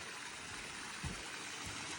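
A small stream and low waterfall along a forest trail in Pha Taem National Park, Ubon Ratchathani, give a steady, even wash of rushing water, fairly faint and continuous with no voices.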